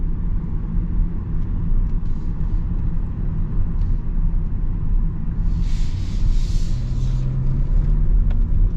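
A 2025 Toyota Camry hybrid cruising on battery power: a steady low road rumble and tire hum with no engine note, with a faint hiss rising briefly midway.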